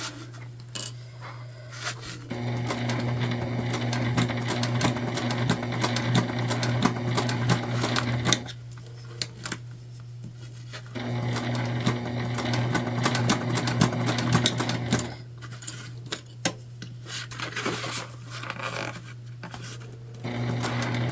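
Sewing machine stitching an Aurora shoulder bag, a steady close whirring hum in bursts of several seconds, separated by brief pauses and small clicks.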